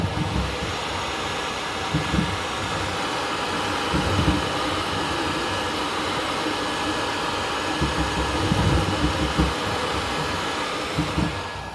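A Creality K2 Pro 3D printer runs at high speed, giving a steady, close whir of fans and motors with rhythmic surges of movement throughout, and no talking.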